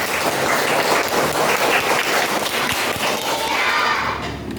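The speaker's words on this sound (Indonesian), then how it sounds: "Kita beri tepuk tangan untuk kelompok 1." Classroom of schoolchildren clapping for a student group, a dense steady burst of claps with some thumps, fading slightly at the end.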